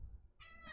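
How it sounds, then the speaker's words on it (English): A pet cat gives a short meow that rises into a bright, harmonic cry in the second half, close to the mic and alone over a low background rumble. "Lexi, because she's meowing, my cat, Lexie, Lexi"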